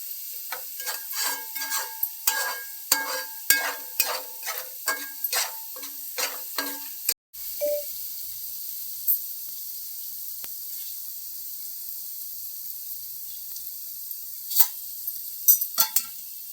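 Masala paste fries in a pan for Andhra-style fish curry, giving a continuous soft sizzle and hiss under a series of sharp scraping spatula strokes that fade, leaving a quieter sizzle with occasional clinks.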